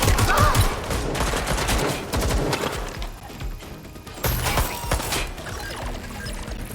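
Rapid bursts of gunfire crack through a firefight in Watch Dogs Legion, dense volleys with splintering impacts, loud and close, easing briefly midway before another heavy burst.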